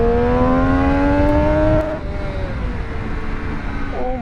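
A Triumph Street Triple RS motorcycle at speed gives a loud, close, high-revving engine whine with climbing harmonics, then a sudden drop in pitch and level partway through as the revs fall, over wind rush.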